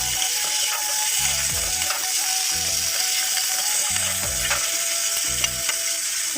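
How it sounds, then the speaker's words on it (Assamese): Potatoes fry in a pan with a paste of onion, garlic, ginger and chili, giving a steady, close sizzle with scraping stirs and clinks of the utensil; no one speaks. "আলু দি মেলি অলপ ভাজি লওঁ"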